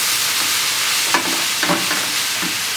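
Cabbage stir frying in a hot pan for a Jamaican sandwich filling gives a loud, constant hissing sizzle, broken by a few scraping stirs of the utensil against the pan, close up and with no talking.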